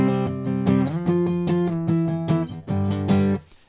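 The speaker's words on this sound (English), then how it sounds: "So octave chords help really fill out the space because it adds the bass to it." Electric guitar plays a song intro with octave chords, adding a low bass layer under the repeated rhythmic strums, clean and moderately loud for under four seconds.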